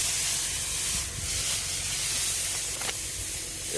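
Dry reed canary slough hay swept by a hay rake in the field: a steady, broad rustling hiss over a low machinery drone, continuous and fairly loud.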